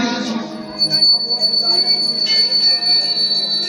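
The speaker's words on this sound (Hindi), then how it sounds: "घंटी से आवाज आ रही है, क्या आ रही है," Temple bells ring at a Goddess Golu Devta shrine during a Bhagwat katha, with a steady sustained metallic ringing and shimmer heard under someone speaking throughout.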